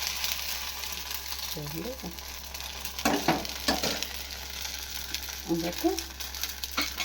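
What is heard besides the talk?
semiya (vermicelli) breakfast batter sizzling in oil in a pan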